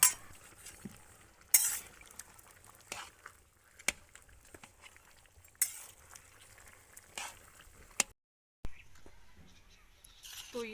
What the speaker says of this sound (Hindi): आटा डालने के बाद हमें चमचे को लगातार चलाना है ताकि हमारा आटा नीचे चिपके ना